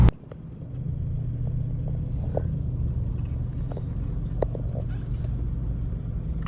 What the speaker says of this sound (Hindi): ट्रैफिक है बहुत ज़्यादा।